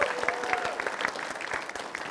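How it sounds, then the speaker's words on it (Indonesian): Brief, moderately loud applause from a crowd for the presidential and vice-presidential candidate pairs at a mock debate, a busy patter of claps throughout. "boleh berikan tepuk tangan untuk kedua paslon kita"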